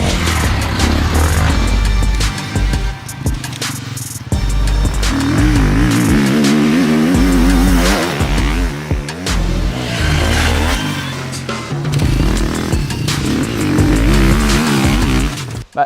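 KTM 250 four-stroke enduro motorcycle ridden off-road, its engine loud and close, revving up and down repeatedly with rising and falling pitch and brief throttle lifts for the whole stretch.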